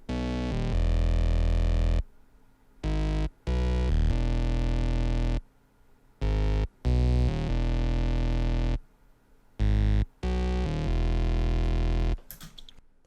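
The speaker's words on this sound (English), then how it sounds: "The next sound is more of a distorted bass," Heavily distorted synth bass from a beat remake, played alone as loud, gritty sustained notes in short bursts separated by silent gaps.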